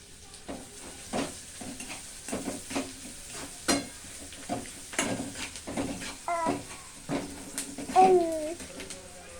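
Onions and curry leaves frying in a pan, with a soft steady sizzle broken by repeated stirring scrapes and clinks; faint bird chirps sound in the background.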